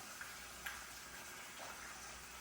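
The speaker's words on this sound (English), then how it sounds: "I'm going to put it in this bowl, get some water, and I'm going to wash it out for a while." Tap water runs steadily into a bowl to wash salted cod, a soft continuous hiss with a couple of faint clinks, fairly quiet and close.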